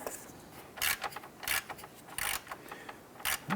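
A ratchet tightens a radiator mounting bolt on a 2005–2007 Ford Five Hundred in short, close, repeated clicking bursts with brief pauses between strokes.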